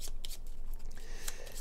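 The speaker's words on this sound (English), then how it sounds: "So now we need to go ahead and shuffle stuff up." Cards are shuffled during a tabletop game of The Taverns of Tiefenthal, with a few quick crisp riffles and shuffles close by over a low room background, and no voices.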